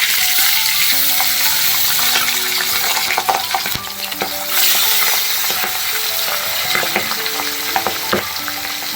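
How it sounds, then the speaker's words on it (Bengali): Pabda fish sizzle and crackle in hot oil, a loud, continuous frying hiss with scattered pops and sputters throughout, and a brief stirring scrape in the middle. "তেল গরম হয়ে গেছে, আমি এর মধ্যে মাছগুলো ছেড়ে দিচ্ছি।"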